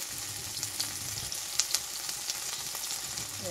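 Crushed ginger, garlic and green chili hit onions already browning in hot oil, giving a soft continuous sizzle with light crackles and a few stirring clinks, close but quiet.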